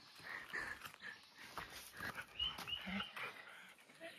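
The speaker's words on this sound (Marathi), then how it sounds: "क्यूट कुत्रे भेटलेत." Dogs met outdoors give soft whimpers and small yips, close and fairly faint, with brief human voices around them.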